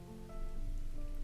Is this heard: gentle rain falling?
yes